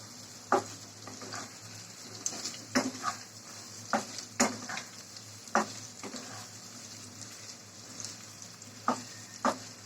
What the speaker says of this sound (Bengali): হালকা একটু ভেজে নিলাম এখন তুলে নিচ্ছি